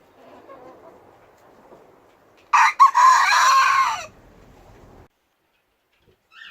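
A rooster crows loudly once on a smallholding among 19 or 20 hens, with faint clucking before and after the crow and a brief quiet at the end.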